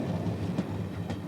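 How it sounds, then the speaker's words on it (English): Service trains rumble steadily along an electrified railway line at night, a continuous low rolling sound with faint rhythmic wheel clatter throughout. "the work must pause while the service trains move into position"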